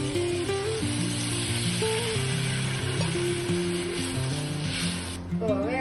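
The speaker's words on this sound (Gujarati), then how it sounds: "તો હવે આપણે એમાં 1 વાટકો ખાટી છાશ ઉમેરશું" Sour buttermilk poured into a pan of cooking Kathiyawadi okra curry, giving a steady close hiss and sizzle throughout with faint bubbling, no one talking.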